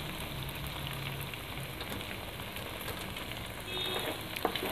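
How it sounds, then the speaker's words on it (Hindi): Egg frying in a pan for anda keema, a dense, close, continuous sizzle and crackle with faint stirring scrapes near the end and no voices. "यहाँ पे इसको अंडे को आपने फुल यहाँ पे फ्राई कर लेना है अच्छी तरह से"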